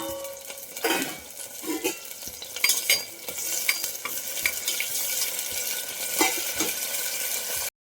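Spices hit hot oil in a pan with a continuous close sizzle, punctuated by frequent utensil scrapes and taps against the metal as they are stirred.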